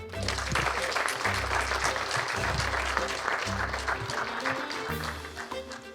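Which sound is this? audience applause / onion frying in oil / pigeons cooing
audience applause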